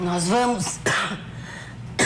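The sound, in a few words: cough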